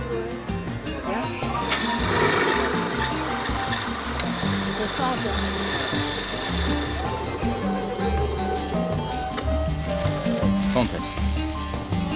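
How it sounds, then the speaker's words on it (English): A machine grinds resin into fresh, warm powder, giving a steady buzzing mechanical whir that runs continuously up close, with voices talking over it. "the monsieur is going to grind me fresh resinous powder ready to go"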